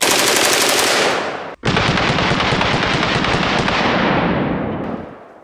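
Loud, sustained full-auto bursts from a .458 SOCOM rifle fired at a motorcycle outdoors: a long burst, a brief gap near one and a half seconds, then another rapid unbroken string of shots that tapers off at the end.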